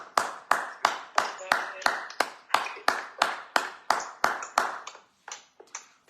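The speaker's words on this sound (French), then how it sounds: "On acclame le Seigneur." A congregation claps in unison in a steady rhythmic beat, about fifteen sharp, close claps that loosen and thin out toward the end.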